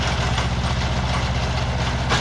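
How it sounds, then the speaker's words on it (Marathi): A tractor engine drives a rotavator through a field, giving a loud, steady low throbbing rumble that holds without a break. "आपण बघू शकता की माझा ट्रॅक्टर रोटावेटर मारतो आहे।"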